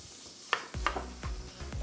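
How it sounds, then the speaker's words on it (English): Onions and pepper sautéing in butter in a pot, with a few sharp clatters and stirring knocks against the pan over a soft sizzle, close by, no talk. "So now I am sauteing the onions and the pepper in butter."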